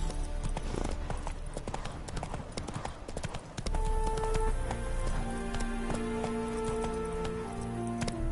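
Horse hooves galloping in The Witcher 3, a steady, fast clip-clop rhythm running throughout, close and loud, with a brief musical tone rising partway through and no talking.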